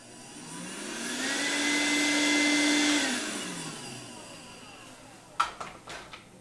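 An Evertop 3-in-1 cordless vacuum cleaner spins up to a loud, steady whine, holds for a couple of seconds, then winds down, followed by a few sharp plastic clicks and knocks nearby.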